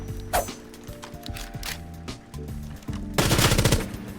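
Gunfire in the video game Rainbow Six Siege: rapid automatic bursts with mechanical clatter, ending in a dense, loud volley, with no talking over it.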